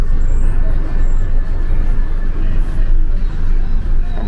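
An old-fashioned city bus in Mazatlan, Mexico rumbles loudly from inside, with a heavy, constant engine and road roar, a faint hiss like brakes, and a voice talking underneath.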